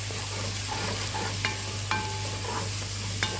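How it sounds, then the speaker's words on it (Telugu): Tomato, coriander and ginger-garlic paste stirred in a frying pan for egg curry, with a steady sizzle and several sharp scrapes and clicks of the spoon against the pan. "బాగా కలుపుకోవాలండి"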